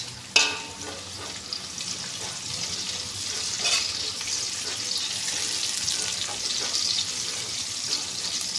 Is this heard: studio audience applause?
no